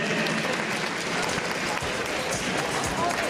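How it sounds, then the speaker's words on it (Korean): An audience at a festival opening ceremony gives a sustained wash of steady applause, a dense unbroken roar of many hands filling the hall at an even level. "여러분 힘찬 박수로 맞이해 주십시오"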